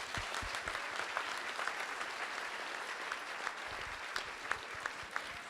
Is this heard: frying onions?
no